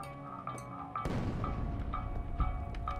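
In the war survival game This War of Mine, a single muffled boom of distant gunfire breaks through a quiet, tinkling game soundscape. A low rumble follows and lingers under soft repeated chimes.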